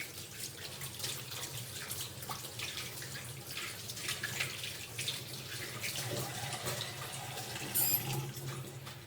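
Tap water runs steadily into a sink during handwashing in a clinical nursing setting, a continuous close hiss with faint splashing and no talk over it.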